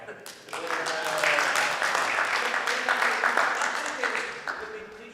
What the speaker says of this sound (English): I think that deserves a round of applause, guys